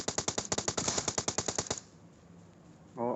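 A fast automatic burst in PUBG Mobile, about a dozen sharp, evenly spaced shots fired close and loud, then quiet ambience and a brief noise at the end.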